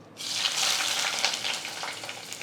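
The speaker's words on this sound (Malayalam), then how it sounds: "ഇനി ഇതെല്ലാം കൂടെ നല്ലതായിട്ടൊന്ന് വഴറ്റിയെടുക്കാം" Shallots, garlic, sliced ginger and split green chillies sautéing in hot oil for a fish curry give a steady close sizzle that starts abruptly and holds at a fairly loud level, with faint stirring.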